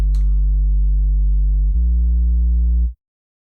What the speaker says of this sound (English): It's just a saturated sine wave